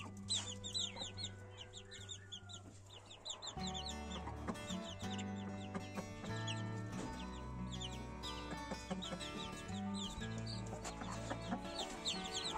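A broody hen clucks repeatedly to her chicks, with steady low calls running through the whole clip and faint high chick peeps mixed in, close and continuous.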